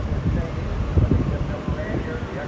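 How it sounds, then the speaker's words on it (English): Gusty wind buffets the microphone at a dirt sprint car race track, a low, steady rumble with a few stronger gusts and faint voices in the background. "It is getting windy."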